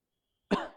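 A single abrupt cough breaks a silence, short and close, fading quickly.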